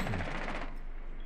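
Gunfire in the tactical shooter Rainbow Six Siege: a loud, dense burst of automatic shots right at the start, trailing off into a rumbling tail over a little more than a second.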